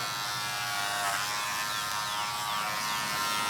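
Electric clippers buzz steadily and close up as they trim the hair along an animal's tail while it is groomed for a show.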